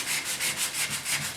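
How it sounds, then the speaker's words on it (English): Sandpaper works back and forth over the tailgate of a 1972 Ford pickup, about seven quick, even rasping strokes close up with no talking. "you start sanding all this stuff here"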